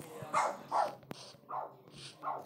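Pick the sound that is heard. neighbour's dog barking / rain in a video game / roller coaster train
neighbour's dog barking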